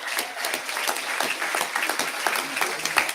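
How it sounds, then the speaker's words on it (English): Dense, steady applause from a graduation audience honoring three tied valedictorians at an 8th grade ceremony, many hands clapping continuously at close range with no speech over it. "give a round of applause for our valedictorians"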